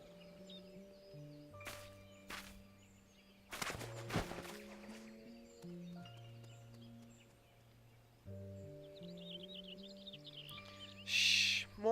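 Chirping bird calls ring out in a Final Fantasy XIV forest area, the Central Shroud, over steady game music, with a louder burst of calls near the end.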